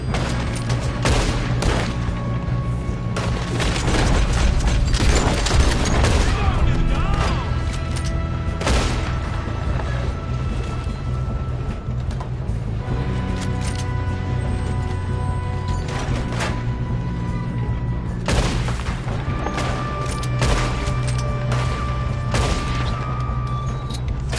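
Gunfire in Red Dead Redemption 2: a dense fusillade of loud rifle and pistol shots with booming reports, coming in bursts throughout a chaotic game shootout, with shouted voices now and then.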